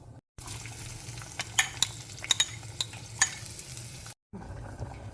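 Hot oil sizzles steadily as curry leaves and spices crackle and pop in sharp bursts while tempering for a Kerala prawn curry, with a spoon scraping and stirring in the pan.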